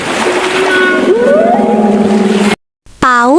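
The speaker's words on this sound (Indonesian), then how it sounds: "Paus beluga adalah paus putih yang suka bersuara lucu seperti sedang" A beluga whale calls underwater, with rising and gliding whistles over a rumbling sea background, then a brief gap before a bright series of chirping, descending tonal squeals.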